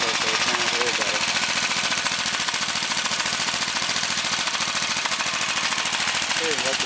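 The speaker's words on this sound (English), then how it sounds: "I've already ran a screwdriver through that muffler, so it sounds a little better." Honda race-engine motorcycle idling with a screwdriver-punched muffler, a dense, continuous rapid popping chatter that stays loud and steady throughout, with no break or change in pace.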